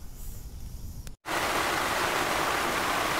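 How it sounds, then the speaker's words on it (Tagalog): Heavy rain at a motorcycle campsite roaring steadily after a brief break, a thick, loud wash of water with no voices. "kung maririnig nyo, ang lakas ng ulan"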